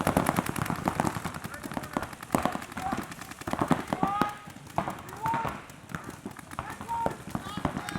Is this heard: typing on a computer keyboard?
no